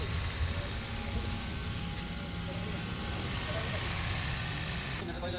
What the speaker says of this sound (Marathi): इंजिन एकदम स्मूथ झालेलं आहे